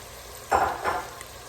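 Sliced jalapeño and red pepper hit a hot pan for rice with chicken, giving two short bursts of sizzling close by, each fading into a soft frying hiss.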